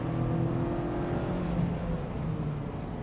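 Mazda Miata engine revving hard toward its 7,500 RPM redline, a steady, continuous engine drone heard from inside the car with rising and shifting tones.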